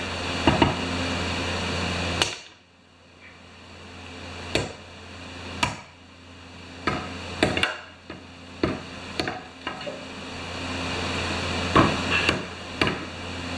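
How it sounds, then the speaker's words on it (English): Sledgehammer blows land on steel wedges being driven into wood, a dozen or so sharp metallic strikes at uneven intervals, loud and close, with no talk. "I think I'm going to use the sledgehammer"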